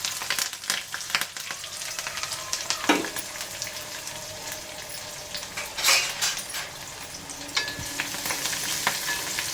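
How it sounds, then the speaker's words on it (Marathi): Onion, garlic, cumin and curry leaves sauté in a pan for Bhogichi bhaji khengat, a Makar Sankranti mixed vegetable dish. A steady close sizzle carries on throughout, with occasional scrapes and clinks of a spatula. "आणि कांदा छान असा परतून घेऊया"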